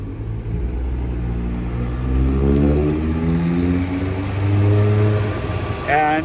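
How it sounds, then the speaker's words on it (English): The 5-liter four-cam V8 of a 1991 Mercedes-Benz 500E idles smoothly with a steady low rumble, swelling briefly as the revs rise a little, heard close with no talk. "It idles perfectly smooth, and I don't hear any valve train noise, no exhaust leaks, nothing unusual."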